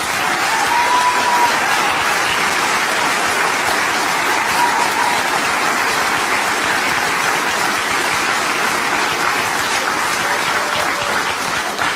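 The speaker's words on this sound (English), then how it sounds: "his audience applauds too" An audience applauds loudly and steadily throughout, a dense wash of clapping with no break or pause.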